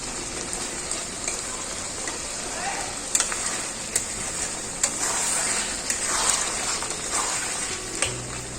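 Mutton kosha sizzles and fries in a pan while a spatula stirs and scrapes it, with a steady close crackle broken by periodic metallic scraping taps.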